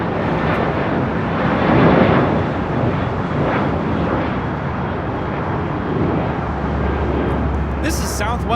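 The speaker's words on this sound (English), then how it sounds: "This is Southwest 930 taking off to Phoenix on a 737-700" A Southwest Boeing 737-700 airliner takes off at LAX, a loud, steady broadband jet roar that swells slightly and holds throughout, with some wind buffeting on the microphone.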